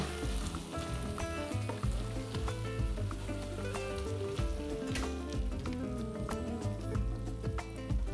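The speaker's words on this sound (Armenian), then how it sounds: "ավելացնում ենք տապակված մթերքները։" Fried ingredients sizzling steadily with beef ribs in a hot pan, a dense continuous crackle heard close up with a few light stirring knocks underneath.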